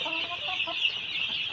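Kadaknath chickens cluck in a steady, close chorus, a flock of hens and a big rooster giving soft repeated clucks over a constant bright barnyard din.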